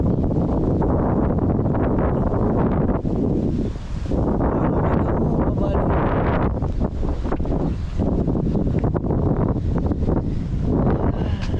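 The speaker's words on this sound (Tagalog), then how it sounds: "sarap ng simoy na hangin dito" Wind blows hard outdoors in Karzakkan forest, Bahrain, a loud constant rush against the microphone that briefly eases before surging again.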